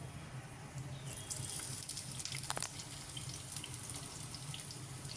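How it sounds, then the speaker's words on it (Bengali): Running tap water pours steadily while small tengra fish, already cut, are rinsed clean in a sink, with a brief clattering surge of splashing midway through. "তো আমি ভালো করে আরেকবার ধুয়ে নেব।"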